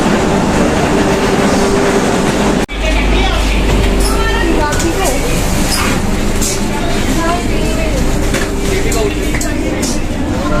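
Steady, loud rumble from inside a moving Vande Bharat Express high-speed train carriage in India, with a sharp click partway through and faint voices in the background.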